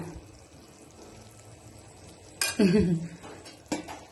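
Quiet background, then a spoon scraping and clinking against a pot as ajwain is stirred into a dry curdled-milk mixture for a couple of seconds, followed by another brief clatter.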